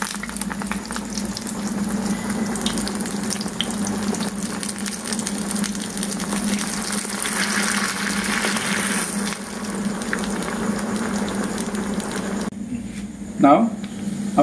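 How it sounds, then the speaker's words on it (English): Malai kofta balls frying in hot oil give a steady, close sizzling hiss that runs unbroken through the clip, with a brief clatter near the end. "Now we'll start frying these kofta balls."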